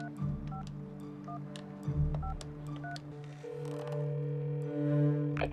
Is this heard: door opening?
no